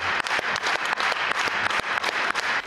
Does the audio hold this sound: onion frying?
no